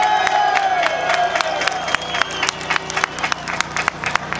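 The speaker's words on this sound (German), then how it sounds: "Ein Riesenapplaus an die Dresdner Polizei" A street crowd at a Pegida rally claps and cheers for the Dresden police, a steady outdoor roar with sharp individual claps and shouts popping through, fairly close and loud throughout.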